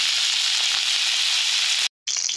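Vegetables frying in a pan in a home kitchen, a steady loud hiss of sizzling oil that continues alone and briefly cuts out near the end.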